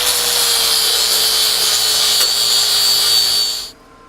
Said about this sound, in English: So I'm going to grind a little bit of this, make it a little bit better fitting.